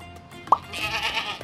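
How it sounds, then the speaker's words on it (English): A single short sheep bleat pops out once, close and brief, over faint background noise that lifts into a soft hiss near the end, with no speech. "Listen, what kind of animal was he taking care of? Yes, sheep."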